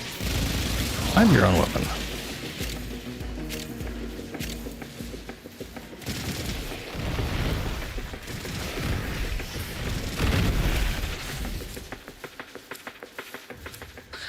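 Explosions and gunfire in the video game Warframe, booming bursts and rapid shots rumbling through the scene with a voice speaking over the chaos.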